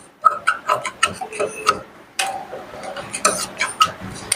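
A sewing machine stitches a seam on a Telugu dhoti, giving a run of close, rapid mechanical ticks and rattles in bursts with a short pause between them.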